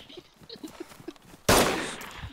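Gunfire in the zombie survival game DayZ Standalone: a sudden loud shot bursts out after a quieter stretch of faint rhythmic sounds and rings out with a decaying tail.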